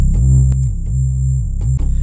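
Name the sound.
synth bass without compressor sustain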